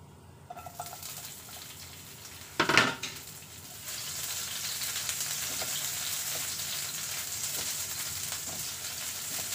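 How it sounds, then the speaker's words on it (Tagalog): Garlic and onion hit a hot pan for adobong sitaw with pork, giving a brief sharp sizzle and clatter, then a steady close frying hiss that carries on to the end with no talking. "Mag-gisa na tayo, guys."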